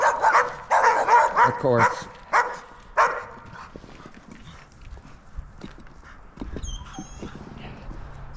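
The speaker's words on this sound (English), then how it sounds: "Oh, the dogs are going crazy" Dogs bark excitedly in a rapid burst of loud, close barks over the first few seconds, then fade to sparser yaps, with someone talking briefly over them at a construction site by a garage foundation trench.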